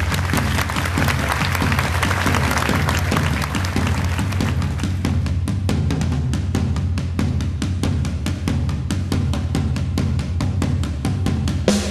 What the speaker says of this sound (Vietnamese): một tràng pháo tay cho Trúc Ly